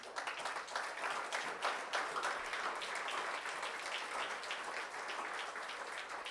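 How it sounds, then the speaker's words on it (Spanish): A church congregation at Casa de Oración Cancún applauds in a dense, steady wash of many hands clapping together, sustained at an even level throughout with no speech. "¿Cuántos le dan un aplauso al Señor?"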